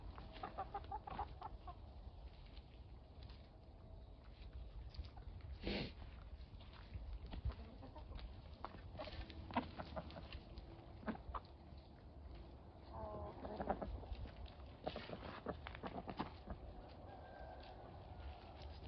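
Village ducks and chickens graze outdoors after the wind has calmed, with faint scattered clucks, pecking and rustling close by, quiet overall with occasional sharper bursts.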